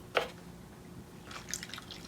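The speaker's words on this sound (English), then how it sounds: "Let's pour our milk into this bowl." Milk pours into a bowl of Reese's Bats cereal, giving a brief splashy drip at the start and then a soft, scattered trickle of liquid.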